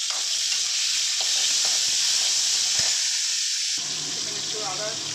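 Drumstick stems, green chillies and five-spice frying in a pan for dal, a steady loud sizzle and hiss with occasional stirring scrapes, no talking.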